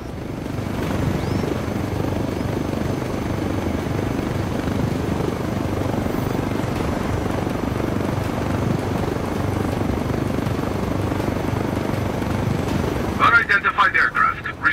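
Helicopter in Ghost Recon Wildlands flying with a steady, loud rotor roar and engine drone that fills nearly the whole stretch, with a burst of sharper mechanical noise near the end.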